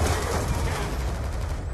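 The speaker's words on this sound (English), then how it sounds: "Why do they just shoot in the room?" Gunfire in a Treyarch Call of Duty video game, a dense, continuous, loud barrage of automatic shots that fills the whole moment without letup.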